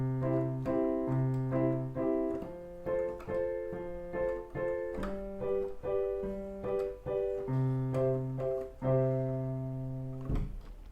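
Cheerful piece of music in a major key, played alone with steady melodic notes over sustained chords and bass, moving in a bright, even rhythm throughout.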